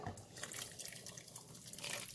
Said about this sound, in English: I still have a little bit of the bean water in here, and I'm going to add it too